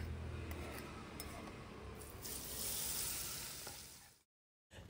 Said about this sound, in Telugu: ఈ ముద్దలోను ఈ వేడి వేడి నూనె వేసి కలపాలి